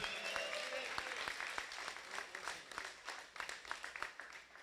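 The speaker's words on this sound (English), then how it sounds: "let's send out a round of applause" A crowd applauds steadily, dense clapping that thins slightly toward the end, heard from within the room with no one speaking over it.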